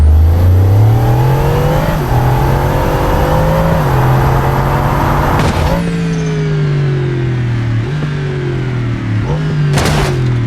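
Bugatti Chiron supercar engine in a video game, loud and close, revving with rising tones that dip at each gear shift as it speeds up, with a whooshing pass partway through and no talking.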